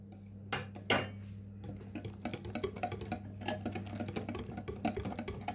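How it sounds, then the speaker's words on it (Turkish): A spoon scrapes and taps steadily against a bowl while a cauliflower sauce mixture with breadcrumbs and corn starch is stirred, a brisk rhythmic clatter that starts with a louder knock and continues close, over a low steady hum. "Güzelce karıştıralım sosumuzu."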